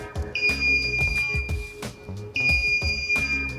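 A level controller alarm on an ammonia refrigeration system sounds a loud high electronic tone in two long bursts, over a busy machinery and percussive background with no speech.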